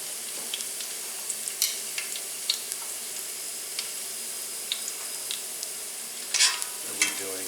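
Rosemary frying in oil in a pasta pan, a steady soft sizzle with scattered crackles and pops and a few brighter bursts near the end, with no voice.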